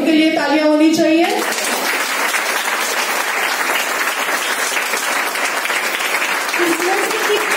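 Dense, loud audience applause at a Women's Day motivational speech, sustained and even throughout, with a voice speaking briefly at the start before the clapping takes over.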